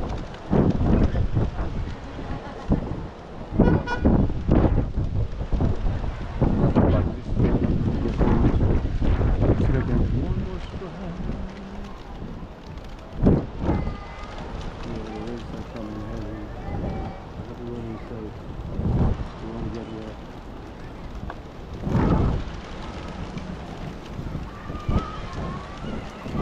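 A thunderstorm seen from a fourth-floor rooftop in Elmhurst, Queens, New York: strong wind buffets the microphone in gusts, with rough rumbling bursts and footsteps as someone runs, and a voice speaks now and then.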